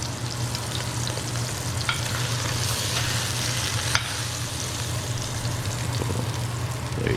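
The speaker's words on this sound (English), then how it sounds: "We want to get a sear on all sides." Pot roast searing in a hot pan gives a steady, loud sizzle and fry that runs unbroken throughout, with a few faint clicks of the meat being moved or turned.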